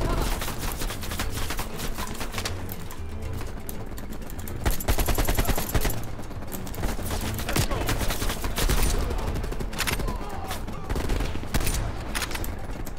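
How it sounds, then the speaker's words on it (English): AK assault rifle in Call of Duty: Black Ops Cold War firing in sustained automatic bursts, loud and dense, with brief gaps between strings of shots and a voice speaking underneath at times. "Weirdest sounding AK in gaming history."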